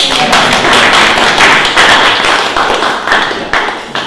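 Town hall meeting audience in Newton, New Jersey giving a round of applause, loud close clapping with distinct sharp individual claps over a steady wash that slowly tapers.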